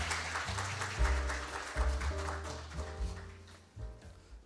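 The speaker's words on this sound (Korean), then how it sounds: "여러분 박수로 맞이해주시면 감사하겠습니다." A seminar audience at a financial crime prevention event claps to welcome a speaker, a dense burst of hands under a tonal musical fanfare that swells and pulses before easing off.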